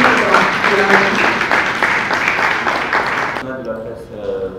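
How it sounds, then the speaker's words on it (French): A crowd applauds the president of the Republic at a Congolese book launch, the clapping layered with overlapping voices and music before breaking off sharply near the end, leaving quieter tones behind. "j'aimerais que vous puissiez applaudir le grand président"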